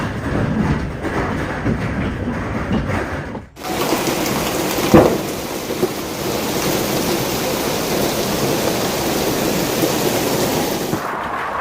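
Hail pounding down during a major hailstorm in Johannesburg, a loud dense roar of hard impacts on roofs and cars that runs steadily, with a brief break and one sharper crack partway through.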